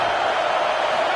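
Dense, steady roar of a stadium crowd cheering on a big third down during a Nebraska versus Ohio State college football game, loud and continuous with no distinct voices.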